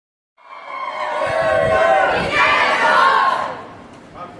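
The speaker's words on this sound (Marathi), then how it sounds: "घोषणा देऊन सर्व प्रशिक्षणार्थी आपला आनंद व्यक्त करताना" A large group of sports trainees at a state-level sports festival cheers and chants slogans together, a loud, sustained crowd roar of overlapping voices close to the listener.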